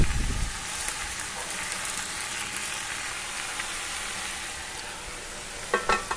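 Malabar spinach hits a pan of shrimp cooked in very little oil, giving a dense, steady sizzling hiss close by, with a few stirring scrapes near the end.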